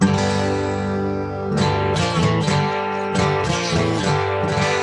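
A guitar tuned to open G is strummed several times, each ringing chord sustaining and overlapping the next in a loose, unhurried rhythm.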